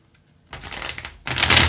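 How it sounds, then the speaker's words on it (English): Tarot cards shuffled in two quick riffling bursts, the second louder and fuller, close up with no talk. "One more shuffle here."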